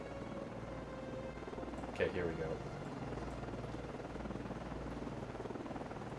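Helicopters in a naval video game with an Oliver Hazard Perry class frigate whir as a steady low rotor drone, with a brief swooping effect near the start and someone talking over it.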